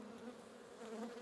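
Honey bees buzz around a hive in sunshine, a faint, steady hum of many wings close by.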